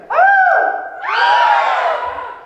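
A loud crowd of voices lets out two long, wavering bleating cries in imitation of a goat, the second rising and fading out.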